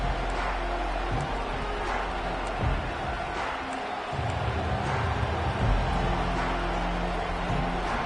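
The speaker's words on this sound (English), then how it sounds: "Listen to the crowd energy here in the early going." A football stadium crowd at a Clemson game early on keeps up a dense, continuous roar of many voices, steady and loud throughout with slight swells, and no single speaker standing out.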